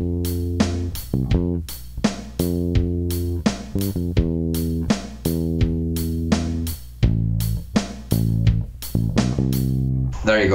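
An electric bass plays the first four bars of the verse of a song. Close, clearly plucked notes run in a steady, groove-like rhythm with short gaps between phrases, and no voice is heard.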